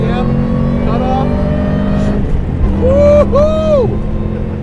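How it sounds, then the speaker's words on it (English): A supercharged 2003 Mustang Cobra engine drones loudly from inside the car as it pulls hard under acceleration toward 6,500 RPM, with a rising whine sweeping upward near the end and voices talking over it. "So let's see what that supercharged engine's really got here."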